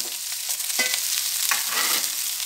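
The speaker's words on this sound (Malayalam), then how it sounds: "നമുക്കിതിലേക്ക് ഞാൻ അരിഞ്ഞ് വെച്ചിരിക്കുന്ന പിന്നെ സവാള, പച്ചമുളക് ഇത് രണ്ടും കൂടെ ഇട്ട് കൊടുക്കുകയാണ്" Chopped onions and green chillies hit hot oil for chicken biryani, giving a steady close sizzle with scraping stirs throughout and no talking.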